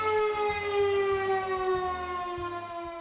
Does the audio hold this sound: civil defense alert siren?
yes